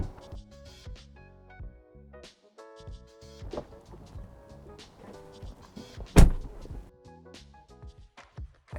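A Tesla's doors are opened and shut as someone gets out of and back into the car, with soft clicks and rustles around one solid door thunk, close and otherwise quiet.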